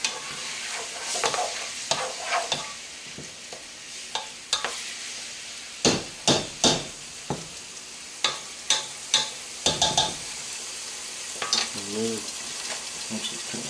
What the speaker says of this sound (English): Just want to let that simmer and cook gently